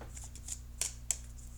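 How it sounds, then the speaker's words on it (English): Tarot cards are shuffled close by in soft papery riffles, with a few sharper snaps standing out against a quiet electrical hum, and nobody talks. "Shuffling just for a couple more seconds."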